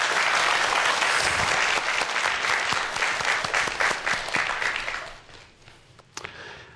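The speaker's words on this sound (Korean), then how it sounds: "여러분들 큰 박수 부탁드립니다." An audience at a lecture applauds for a speaker in a strong, dense burst of clapping that holds steady, then thins out and fades over the last couple of seconds, ending with a few scattered claps.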